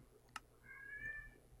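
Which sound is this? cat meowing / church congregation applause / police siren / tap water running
cat meowing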